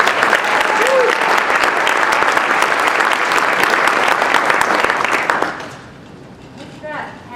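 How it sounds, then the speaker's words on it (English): Loud, dense applause from an audience at an awards ceremony, sustained for several seconds and then cutting off abruptly, with faint voices and sounds afterward. "how many in here think that TJ deserves a round of applause for all of this?"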